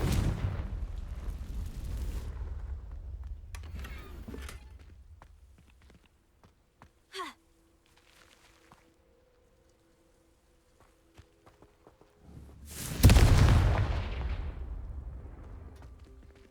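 Confringo explosion spells go off in the video game Hogwarts Legacy, with a booming rumbling blast that fades at the start, a brief sharp hit mid-clip, then a second loud explosion near the end that slowly decays.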